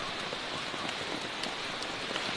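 Steady rain falls in a tropical rainforest, a dense, even hiss of drops on leaves and ground with scattered louder patters close by, continuous and alone with no voices.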